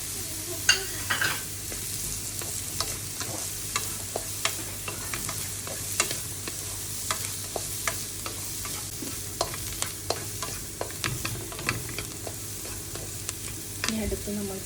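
Mixed vegetables and capsicum stir-fry in a pan for veg fried rice, with a steady close sizzle broken by repeated sharp scraping and clicking stirs, and no talking.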